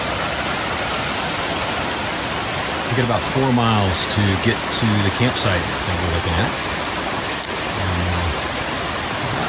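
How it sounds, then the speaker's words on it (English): A waterfall flows down a creek along the Pacific Crest Trail, a loud, steady rushing roar close by, with someone talking over it partway through. "beautiful waterfall coming down through here"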